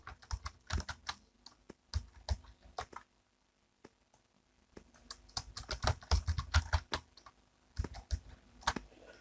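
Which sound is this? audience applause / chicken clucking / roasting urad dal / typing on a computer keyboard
typing on a computer keyboard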